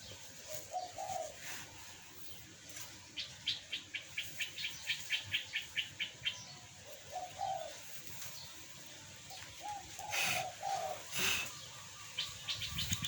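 Soft, distant cooing of a dove, repeated low calls over a rapid series of chirps and faint outdoor background noise.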